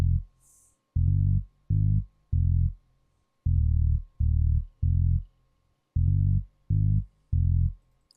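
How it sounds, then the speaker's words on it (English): A hip hop beat's bass line of deep, punchy low notes in short grouped bursts separated by brief gaps, loud and driving with nothing else playing. "My bass line sounds like this."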